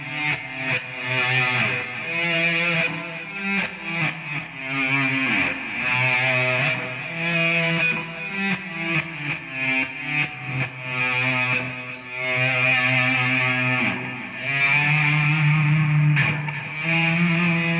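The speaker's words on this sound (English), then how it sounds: "This is like a slow attack distortion effect here." Heavily distorted electric guitar playing a riff with swelling, slow-attack notes that fade in rather than strike, thick and loud with no voices.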